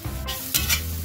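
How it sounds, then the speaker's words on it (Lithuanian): Onions and smoked bacon fry in a pan, a constant close sizzle punctuated by two or three quick scraping stirs of a utensil, with no one talking. "Apkepinam svogūnus, sudedam rūkytą šoninę."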